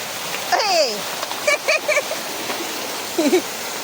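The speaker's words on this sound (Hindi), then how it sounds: "और ये देखो झरना" A waterfall beside a hillside path rushes in a steady, broad roar, with a voice speaking briefly over the constant water noise.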